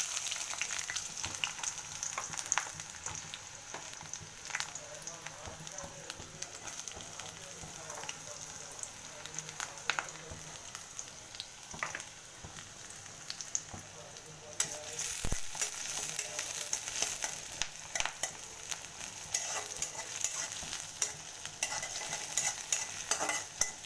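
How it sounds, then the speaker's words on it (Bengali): Onion and green chili fry in hot oil in a wok, giving a quiet, steady sizzle broken by scraping stirs. The sizzle grows busier and louder toward the end. "পেঁয়াজ কাঁচামরিচ একটু ভেজে নিব।"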